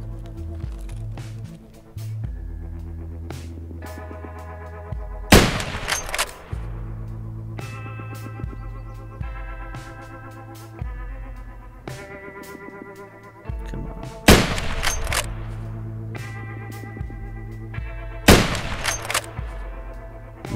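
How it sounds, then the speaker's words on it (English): Rifle gunfire in the Escape from Tarkov video game, with three loud, sharp bursts of shots breaking over steady background music. "I've got a rifle that can deal with them."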